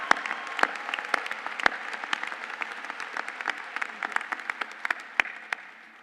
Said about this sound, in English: We give one more round of applause to all of our graduates and their outstanding